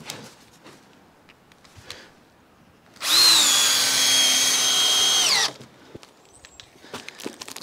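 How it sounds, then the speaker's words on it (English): A cordless power drill drives a screw into timber wall framing in one loud, steady whirring burst of about two and a half seconds, with quieter knocks and handling sounds before and after. "I'm just going to go around getting some more screws in just to lock it all down"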